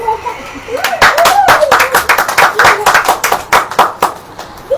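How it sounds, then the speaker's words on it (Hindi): Scattered hand clapping from a church audience builds into a cluster of sharp, uneven claps, close and loud, with voices murmuring underneath before it thins out. "ताली नहीं बजाएंगे?"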